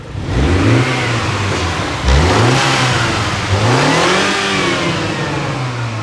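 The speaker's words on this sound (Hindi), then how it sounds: "बता इसकी इंजन की टर्बो की आवाज़ सुनो" A Mini Cooper D turbo diesel engine revs hard several times in a row, pitch climbing and falling with each push, loud and close, with a faint turbo whir.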